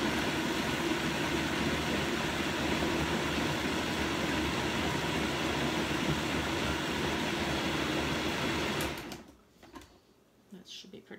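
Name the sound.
Vitamix blender mixing banana nut muffin batter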